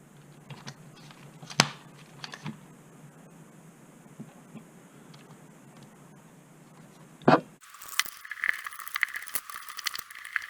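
The differential of an Arrma Grom RC car spun by hand, giving faint light clicking and rattling for several seconds, then a louder burst of fast whirring and rattling near the end, with no talk.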